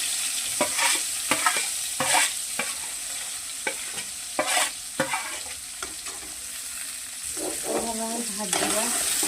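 Desi crabs fry in hot oil in a kadai, a steady sizzle broken by sharp scraping and clattering stirring strokes at close range, with a few faint voice-like sounds near the end.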